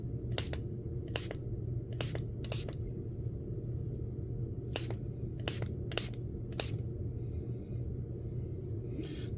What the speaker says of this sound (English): I'm going to spray some alcohol on the top of that.